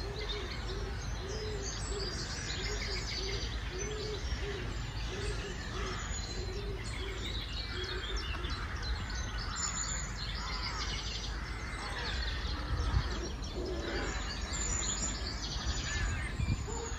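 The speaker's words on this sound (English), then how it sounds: "The birds all sound amazing at the moment." Birds singing in Ottery St Mary, Devon, a working town: repeated soft cooing of a pigeon or dove plus scattered chirps and song from other birds, moderately distant and continuous outdoors.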